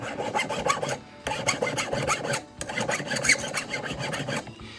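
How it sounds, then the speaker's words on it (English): A file rasps back and forth across a repaired sterling silver wire to remove excess metal, four close bursts of rhythmic scraping strokes separated by brief pauses. "Just file it off a little bit."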